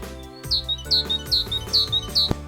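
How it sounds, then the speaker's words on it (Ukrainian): A tit calls at a winter bird feeder, giving five bright, evenly spaced chirps in a quick steady rhythm, close and clear. "Ців-ців-ців, ців-ців-ців. Це синичка прилетіла."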